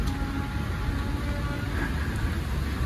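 Steady rain falls on a New York street in a constant, even hiss with a low traffic rumble beneath, wet and continuous with no voices.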